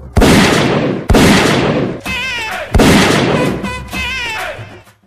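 Loud gunshot blasts from a gun, three sharp reports roughly a second apart, each with a long decaying rumble, during a village scene with people shouting nearby.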